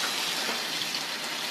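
Hot water hose running steadily on snowy Plus bikes during a blizzard, a continuous broadband gush of spraying water, fairly loud and unbroken, with no voices over it.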